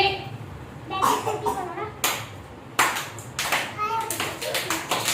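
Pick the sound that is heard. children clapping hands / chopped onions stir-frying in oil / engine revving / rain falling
children clapping hands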